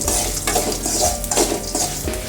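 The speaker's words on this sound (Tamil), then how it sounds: "வரமிளகா போட்டு முதல்ல கிண்டிக்கணும்." Dried red chillies frying in a pan for vatha kuzhambu are stirred over low heat, giving a close, loud, continuous sizzle with scraping utensil strokes and light metallic contact, with no talking.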